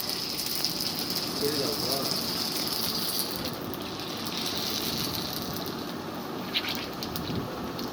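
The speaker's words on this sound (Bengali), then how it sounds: "আমরা গরম তেলের উপর ফুচকাটি দিয়ে দিলাম" Fuchka puffing in hot oil on a clay stove gives off a continuous dense sizzle and crackle, close and fairly loud, with a steady hissing wash and occasional sharper pops throughout.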